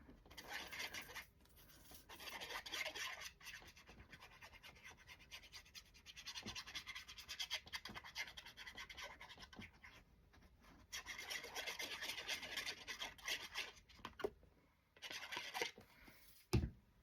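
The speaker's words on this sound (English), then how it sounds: "I'm gonna rub both sides here" Paper ephemera being rubbed down by hand in a craft project, producing soft rasping scratchy strokes in long bursts with brief pauses, close and quiet, no talking.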